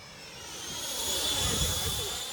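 A radio-controlled Freewing 80mm T-33 model jet makes a slow pass with wheels down, its steady ducted-fan whine swelling slightly and then holding level at a moderate distance, with faint wind and background noise.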